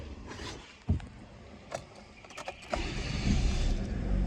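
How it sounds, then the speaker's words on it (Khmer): Kia Morning car engine running quietly: a soft, low idle hum in the background, broken by a few short clicks and thumps, with the engine note growing a little fuller toward the end. "ម៉ាស៊ីននេះស្ងាត់ល្អណាស់"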